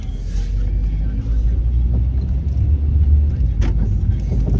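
A car rolls along on a casual morning drive, its steady low engine and road rumble filling the cabin throughout, with faint clicks and rattles on top.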